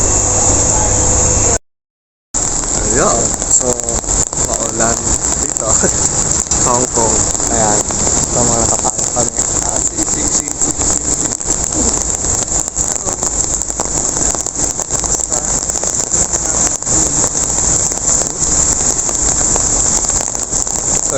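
Steady rain falls on a street in Yau Ma Tei, Hong Kong, a continuous close hiss of drops on surfaces through the whole stretch, with faint voices and chatter in the background early on.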